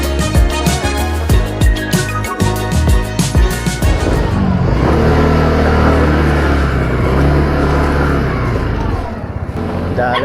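A stock 150cc motorcycle riding at night in the Philippines, its engine droning loudly and close, with rhythmic revving pulses at first that settle into a continuous, steady running note.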